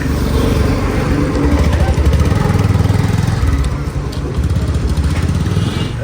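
A steady, loud motorcycle engine drone nearby as a newly sold bike rides off, a continuous throbbing rumble with slight dips, and faint talk underneath.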